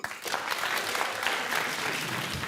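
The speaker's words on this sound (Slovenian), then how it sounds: "En aplavz za obe ekipi." A crowd applauds both school teams at a cup-stacking competition, clapping steadily, a dense patter of applause filling the whole moment without pause.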